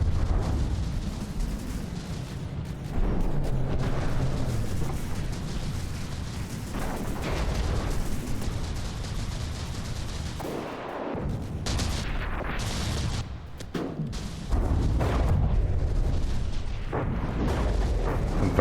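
Arquebalista turrets aboard a Gimle battleship fire in From the Depths amid a loud, dense barrage of booming shots and rumbling explosions that rolls on continuously, with brief lulls between volleys.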